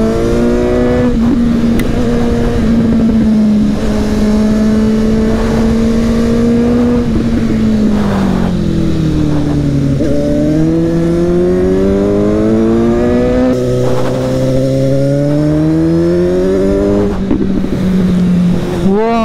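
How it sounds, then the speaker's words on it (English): A Suzuki GSX-S750 motorcycle engine drones loudly and steadily from up close, its pitch rising and falling as the throttle opens and eases through turns, with no pauses. "just look at the kind of throttle you can open in the turns"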